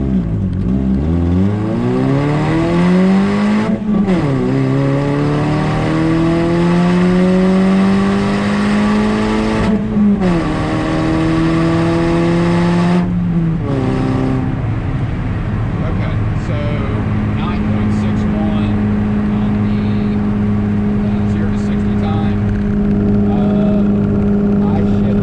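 A stock Toyota Yaris with factory ECU, wheels, tires, intake and exhaust pulls hard through a 0 to 60 run, its engine note climbing steeply in three rising surges broken by gear shifts before settling into a steady cruising drone.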